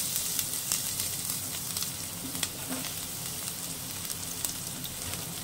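Chopped garlic added to hot oil after cumin tempering for a bhetki fish chachchari, giving a continuous soft crackling sizzle with scattered small pops, steady and fairly quiet, heard alone without talk.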